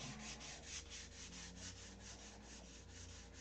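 Hand sanding the lightweight plastic body of a Big Tucker 600 model, a steady rhythmic rasping of sandpaper with quick repeated strokes, close and continuous with no talk.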